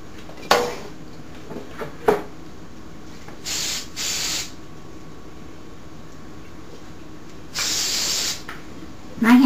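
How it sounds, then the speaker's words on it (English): Cooking spray hisses from a can onto a hand in two separate bursts, each about a second long, close and loud, with light clinks of kitchenware and handling noises between them. "I'm going to spray my hand."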